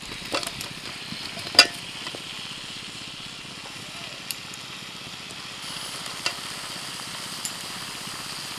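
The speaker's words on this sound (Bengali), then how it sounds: "মশলা কষানো হয়ে গেছে এবার ভাজা আলু আর ব্রোকলি দিয়ে দিচ্ছি" Fried potato pieces and broccoli go into a pan of cooked-down spice paste. A faint, steady sizzle carries on, broken by a few sharp clicks and knocks from the utensil.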